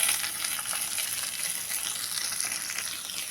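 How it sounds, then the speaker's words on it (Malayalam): Chopped onions sizzle steadily in a hot pan for a homestyle prawn curry, a dense, even frying hiss that holds at a constant level throughout with no talk. "സവാള ഒരു 4, അത് നമുക്ക് നല്ലോണം ഇതിന് ഇട്ട് അതൊന്ന് മൂക്കട്ടെ."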